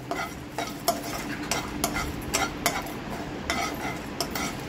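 Whole spices—cardamom, shahi jeera, star anise, cinnamon and black pepper—dry roasting in a pan for Karnataka-style dum chicken, with steady scraping stir strokes and light rattling clicks over a faint hiss, close and moderately loud, no talk.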